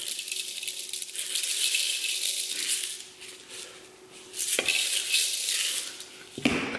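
Dry dehydrated onion pieces rattle and patter into a measuring cup in a home kitchen, a soft scattered pour with two sharper clinks near the end, heard alone and fairly quiet.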